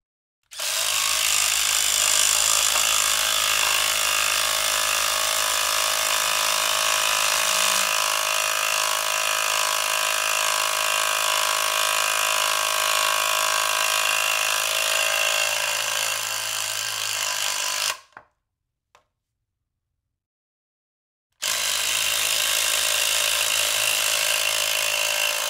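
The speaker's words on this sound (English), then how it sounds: "Let's move on over to the 4-inch lag bolt and see how these go into hard white oak" A DeWALT impact driver drives a 4-inch lag bolt into hard white oak, a loud continuous hammering whine close by, cutting off abruptly near the end, then resuming after a few seconds of silence.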